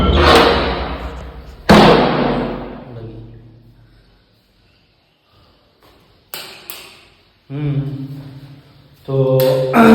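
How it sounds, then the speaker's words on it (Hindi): A house door is shut in a rural Indian home, several loud wooden thuds and slams with ringing decay, separated by quiet gaps, alone without talk. "दरवाज़ा खुला है, दरवाज़ा बंद है"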